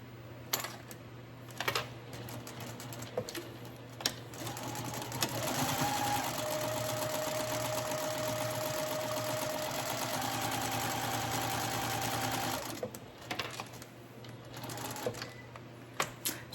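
A sewing machine stitches straight off the edge of quilting fabric for a basket liner, running steadily for about eight seconds, with a few handling clicks and knocks before and after.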